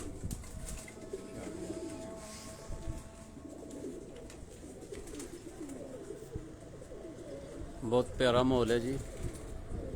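Pigeons fly from a rooftop and coo, heard faintly behind close conversation and ambient outdoor noise, with a brief flurry of calls or wingbeats near the end.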